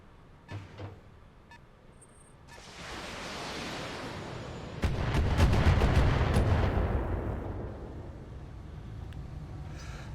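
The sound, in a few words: mech weapons firing in BattleTech video game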